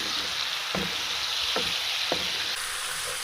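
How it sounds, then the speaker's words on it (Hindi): Tadka sizzling in a pan for dal cooked in desi butter, a steady loud frying hiss with three quick knocks of a spoon against the pan. "और बस अभी तड़का लगाती हूँ"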